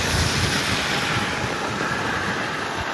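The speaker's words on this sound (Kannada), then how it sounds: "ಗಾಳಿ ಎಳ್ಕೊಂಡು ಹೋಗ್ತಾ ಇದೆ ಸೈಡಿಗೆ ನಾವು" Strong wind roars steadily on a dark road at night during heavy rain, buffeting the microphone with a loud, constant broadband rush and low gusty thumps throughout, no voices.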